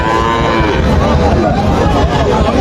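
A calf at a crowded cattle market in Joypurhat lets out a loud, close, drawn-out moo, with market chatter and crowd noise underneath.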